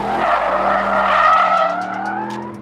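Tires of a 2024 Aston Martin Vantage coupe squeal and skid on a racetrack, a loud sustained screech with engine drone underneath, rising slightly in pitch over a few seconds.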